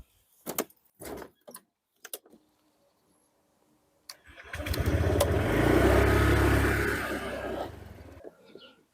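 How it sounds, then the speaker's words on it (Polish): A few clicks and rattles, then a motorcycle engine starts and runs up loudly for several seconds before fading as the bike pulls away, with a child riding as passenger in a safety harness. "Odpalamy i jedziemy."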